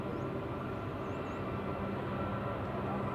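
A Lufthansa airliner taxiing at Manchester Airport, heard as a steady, distant broadband engine rumble and hiss that stays even throughout, with faint chirps above.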